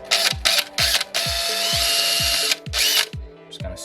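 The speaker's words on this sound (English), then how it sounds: "Just going to slowly drill through like that." A power drill bores slowly through a 3D printed rodent food hopper in short repeated bursts, whirring and ratcheting with brief pauses between, close and fairly loud with no talk.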